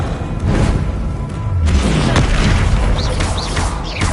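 Spell impacts from Hogwarts Legacy, including Bombarda, Confringo, Incendio and Glacius casts, land as dense booming blasts and bursts that follow one another steadily and loudly across the whole stretch.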